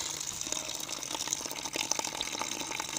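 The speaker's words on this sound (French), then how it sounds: "Je les mets sous un robinet d'eau, voilà, pour bien les laver." Tap water running steadily over freshly picked prickly pears as they are rinsed clean of spines, a continuous close splashing hiss with no talking.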